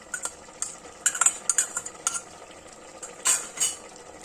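Spoon stirring sisnu (stinging nettle) curry with ground spices, cumin and coriander powder in a pot, giving a series of close scraping clinks and soft scrapes in irregular bursts.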